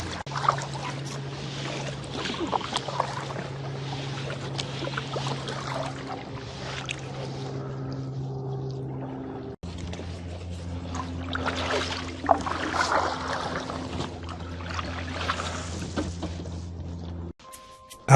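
A kayak paddled through water near Wallace Island: continuous soft swishing and dripping of paddle strokes over a low steady hum, close by, with no talking.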